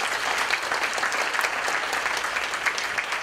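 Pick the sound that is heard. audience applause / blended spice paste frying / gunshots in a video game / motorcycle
audience applause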